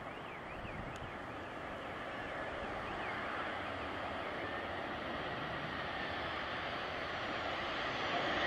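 Airplane landing in strong wind on runway 23 at Madeira Airport, a continuous roaring engine and wind noise that swells slightly toward the end, loud and steady without pause.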